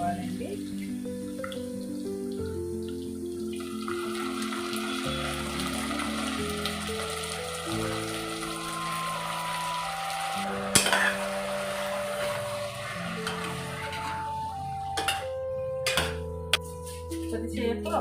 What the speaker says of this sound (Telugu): వేగిన తర్వాత బీరకాయలు వేసుకోవాలండి.